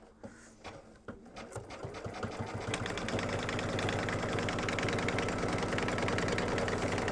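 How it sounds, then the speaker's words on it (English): An embroidery sewing machine stitches out a mug rug in the hoop, starting with a few separate needle strikes and then settling into a steady, fast mechanical chatter that stays loud and close throughout, with no talking. "I'm going to let it stitch normally till it gets close"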